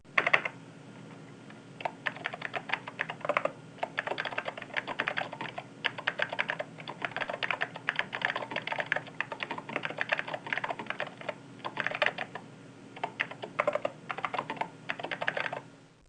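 Fingers type steadily on a NeXT computer keyboard running NeXTSTEP 3.3, bursts of close, crisp key clicks with short pauses between words and no talking.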